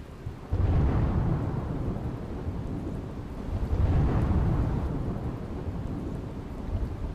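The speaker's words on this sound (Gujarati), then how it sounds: "અમરેલીના ગ્રામ્ય વિસ્તારમાં ધોધમાર વરસાદ." Heavy monsoon downpour over a rural village area of Amreli, Gujarat, with deep rolling thunder swelling twice, at the start and again near the middle, over a steady loud roar of rain.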